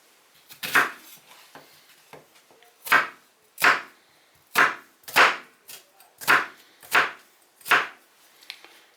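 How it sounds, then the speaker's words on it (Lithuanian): A knife chops an onion in about ten distinct, fairly even strokes against a board, each a sharp close thud with brief pauses between, with no talking over it. "Tai pirmiausia, susipjaustom svogūną."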